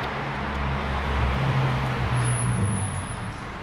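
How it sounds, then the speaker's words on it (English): A car drives past beneath a bridge, giving a steady low rumble of road noise that swells and fades over a few seconds, with no talking. "cars make a lot of noise when they're underneath this bridge"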